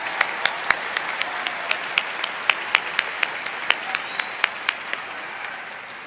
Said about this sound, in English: Let's please give another big round of applause to our doctoral degree recipients.